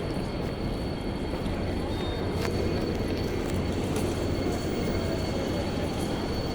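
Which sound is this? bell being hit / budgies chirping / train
train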